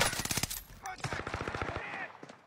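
Rapid machine gun fire in the Call of Duty video game, loud bursts of closely spaced shots rattling continuously with a brief gap, a voice shouting over the gunfire.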